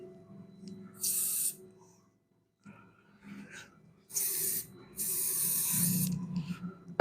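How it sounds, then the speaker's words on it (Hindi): Hair spray is sprayed onto hair while a Pakistani bridal hairstyle with waves and a low bun is styled. Three loud, close hissing bursts come, the last two long and back to back, with quiet handling noise between them. "हेयर स्प्रे करूंगा।"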